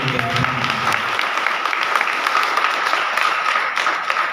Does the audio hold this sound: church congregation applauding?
yes